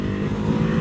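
A Ducati Hypermotard 950 SP engine holds a steady, loud, close throb during a quick-shifter gear change on the highway, with no voices.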